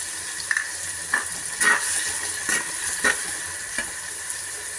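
Tomatoes sautéing in a pan for a fish curry, a steady hiss of frying broken by repeated scraping strokes of a spoon stirring, close and moderately loud with no voices.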